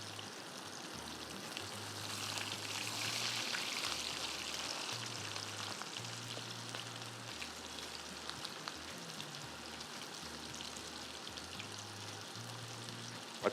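Kebab patties frying in a pan for a burger, a steady close sizzle and crackle running the whole time with no one talking.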